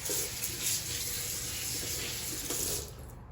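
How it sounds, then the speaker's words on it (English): Tap water running steadily into a kitchen sink during hand washing, a continuous close splashing hiss with slight fluctuations and no talking. "Let me just wash my hands."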